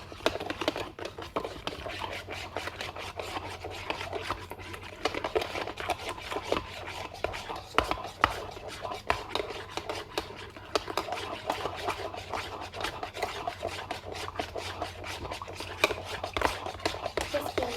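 A spoon mixing ingredients in a bowl while cooking, heard as a quick, steady run of close scraping and clinking strokes throughout, with voices talking alongside.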